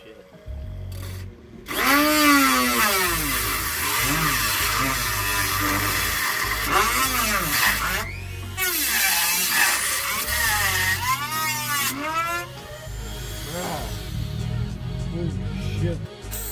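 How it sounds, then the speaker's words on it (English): A Dremel rotary tool cuts into a Scion FRS body panel, its high whine rising and dipping in pitch as it bites and bogs, with brief pauses between passes; a voice talks over it at times. "Get my Dremel tool, cut this piece out."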